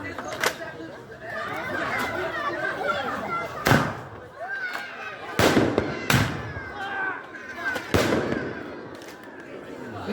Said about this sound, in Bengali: কি সুন্দর, কি সুন্দর আতশবাজি